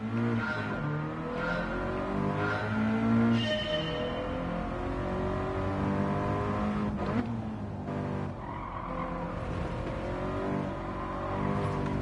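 A car in Gran Turismo 7 drives a lap, its engine droning and revving steadily through gear changes, with tire squeals and skids at the corners, loud and close throughout with no voices.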